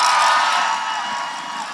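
A large crowd at a No Kings protest rally in Seattle, under the Space Needle, roars and cheers as a steady wash of voices that slowly fades a little.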